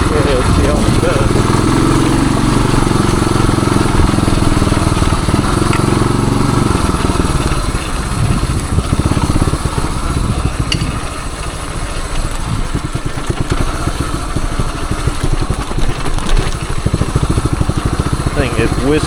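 A 1978 Suzuki DR370 motorcycle engine running steadily, a loud, close, continuous rumbling drone lasting throughout, with someone talking over it at times.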